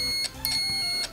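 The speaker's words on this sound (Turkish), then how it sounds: "Özellikle süreklilik testi diyot ve süreklilik testi için buzzer bölümü var burada." A multimeter's continuity-test buzzer gives a high, thin electronic beep that breaks briefly a couple of times, close and clear over a quiet room.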